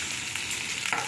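Beans and chopped green chilli fry in a pan, a dense close sizzle with a brief stirring scrape near the end.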